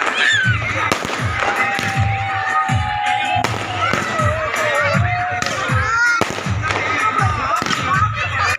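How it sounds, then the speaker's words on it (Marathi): Diwali firecrackers from a large box pop and bang in rapid succession, with whistling and crackling bursts nearby, while people shout and talk in the background. "फटाक्याचा खूब मोटा बॉक्स है त्याच्यामुळे बगू शकता कि कंटिन्युअसली चालू है"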